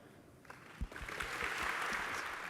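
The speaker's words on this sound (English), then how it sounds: "Bit early on the applause, everyone" Applause from a conference audience at a lightning talk session begins softly, with a few low thumps near the start, then swells into a sustained crowd of clapping hands that stays loud to the end.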